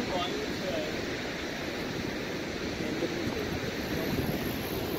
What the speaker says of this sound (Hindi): पानी जो है वो आबशार का गिरता हुआ नज़र आ रहा है